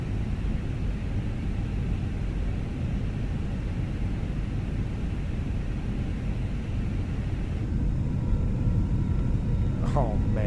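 Fenix A320 airliner landing in a flight simulator game during winter operations at Portland: a steady, loud broadband engine and air rumble that runs unbroken throughout, with a brief faint chirp near the end.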